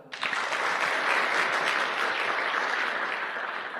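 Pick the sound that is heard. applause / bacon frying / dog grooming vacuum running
applause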